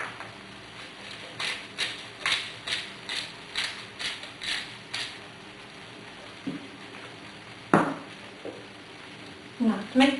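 A pepper grinder cranks pepper into French onion soup, producing a run of about ten rhythmic ratcheting grinds in the first half, followed by a few scattered clicks and kitchen clatter.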